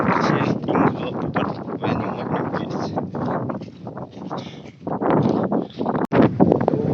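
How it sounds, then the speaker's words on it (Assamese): Wind gusts buffet the microphone on a riverbank, a loud, rough, continuous rumble that swells and dips throughout, with a brief sharp knock near the end. "ইয়াতে অলপ বতাহ দিছে চাগে পুৰা মাতটো আহিব নাই"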